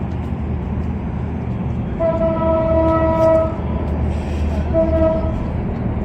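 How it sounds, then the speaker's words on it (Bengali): A train horn sounds in two long blasts, the second shorter, over the steady rumble of a passing train in a village setting. "ট্রেন হরণ দিতেছে ট্রেন যাইতেছে"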